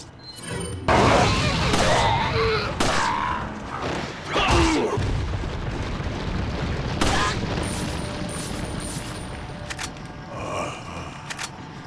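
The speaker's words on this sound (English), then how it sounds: "I hate using these grenades, but I need to get past you" Grenade blasts and gunfire in Resident Evil 4: a loud boom near the start, then more crashing explosions and shots with rumbling debris, close and heavy, with a voice talking over parts of it.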